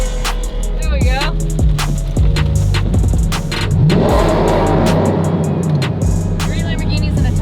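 Several Lamborghini Murcielago engines revving in a tunnel, a loud, echoing roar that builds and swells over several seconds with sharp clicks and crackles, under other vehicle noise.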